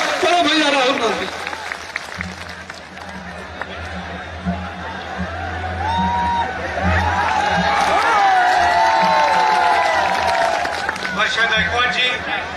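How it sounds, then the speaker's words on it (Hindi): A crowd at a political rally applauding and cheering for Rahul Gandhi, sustained loud clapping and shouts filling the space, with an amplified voice over the top. "मैं चाहता हूँ जोरदार तालियों के साथ आप उनका ऐतिहासिक स्वागत करें।"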